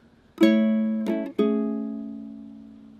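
Three plucked ukulele chords, fingerstyle, each pair of strings ringing together, including strings 4 and 2, the last one sustaining and slowly fading. Bright, close and clean, with no voices.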